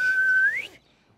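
A child whistles with pursed lips, one thin wavering tone that holds steady then slides upward before breaking off into silence.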